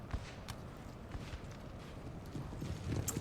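Horse artillery on the move in Napoleon: Total War, a soft continuous patter of many hooves clip-clopping at a walk, fairly faint and distant, swelling a little toward the end.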